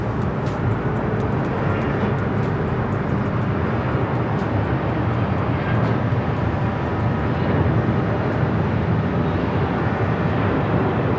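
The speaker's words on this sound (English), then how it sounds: "With a Delta 767 at 300ER. Touching down, 24 right." A Delta Boeing 767-300ER touching down on runway 24 right at LAX, heard as a loud, steady, broadband jet roar that continues unbroken throughout.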